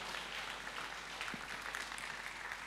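Applause from an audience after a dance performance by a couple on a dance show, a steady wash of clapping at moderate distance with no talk over it.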